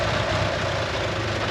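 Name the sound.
ticking of an exhaust leak on a Mitsubishi Eclipse engine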